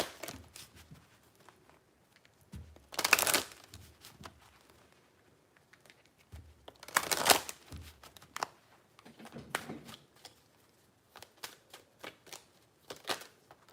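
Oracle cards being shuffled produce two loud riffling bursts separated by quieter taps, slides and soft handling clicks, close up with no talking.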